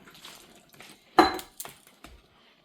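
A spoon clinks and scrapes against a bowl while mixing khaman batter, a few sharp knocks and scrapes spaced apart in a quiet room.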